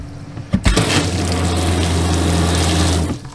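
Water gushes steadily from an RV kitchen sink faucet and sprayer during winterizing of a small travel trailer, a loud continuous rush with a low pump hum beneath, starting after a brief clunk and cutting off near the end.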